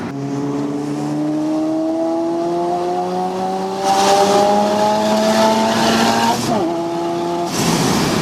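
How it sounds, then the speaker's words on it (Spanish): A high-pitched rotary-engined Mazda RX-7 race car screams and revs steadily, climbing in pitch, then briefly drops and surges again, loud and close with no talking. "el sonido de los rotores no lo puede conseguir un 8 cilindros"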